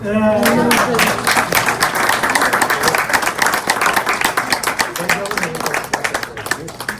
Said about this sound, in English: can we get like another round of applause for these?